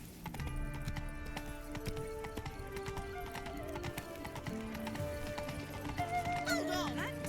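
Roach, the horse in Witcher 3, gallops with steady clip-clopping hoofbeats under a layer of game music and ambience. A whinny-like call rises near the end.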